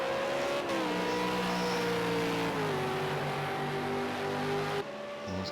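A Supercars race car in a sim racing game at Laguna Seca roars steadily through the corners, its loud engine note stepping down in pitch under heavy braking, then cutting off sharply near the end.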